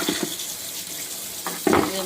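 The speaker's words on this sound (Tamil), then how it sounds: "எல்லாத்தையும் கழுவி கழுவி எடுக்கிறோம்" Squid is washed under a running kitchen tap, with water splashing and gushing in uneven bursts and some wet handling noise. No one speaks.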